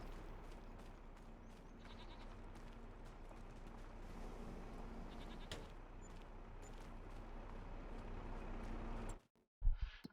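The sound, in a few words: goats bleating in Farming Simulator 25 video game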